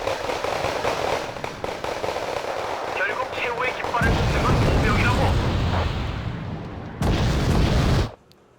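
Heavy fire and explosions in Wargame: Red Dragon, a dense, loud barrage of rumbling blasts and crackling shots that swells midway and holds before cutting off abruptly near the end.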